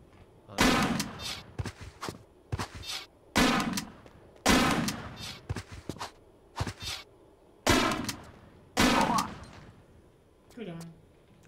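Gunfire in Tomb Raider The Last Revelation, Sega Dreamcast port, comes in loud bursts of shots that repeat several times, each separated by short gaps. A voice talks in between the volleys.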